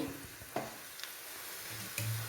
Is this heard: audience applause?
no